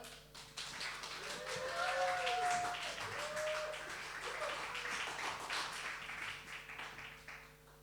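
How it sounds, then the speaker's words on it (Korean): A church congregation claps to welcome the pastor to the pulpit at a Sunday worship service, a dense, steady wash of applause lasting several seconds, with a faint voice and tones beneath it. "또 우리 말씀을 전하시는 우리 전한민 목사님 또 나오실 때 큰 박수로 환영하도록 하겠습니다"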